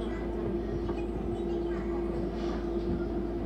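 Docklands Light Railway train pulling away from Stratford, a steady low electric hum with a sustained motor whine and faint track rumble throughout.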